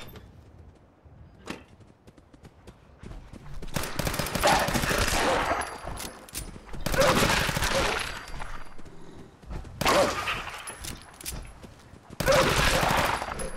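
Automatic gunfire in Fallout 4: loud, rapid bursts of shots come in three or four long volleys separated by brief pauses, with sharp single cracks in between and no talking.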